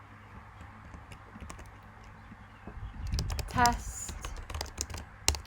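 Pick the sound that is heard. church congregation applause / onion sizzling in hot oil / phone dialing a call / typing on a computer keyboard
typing on a computer keyboard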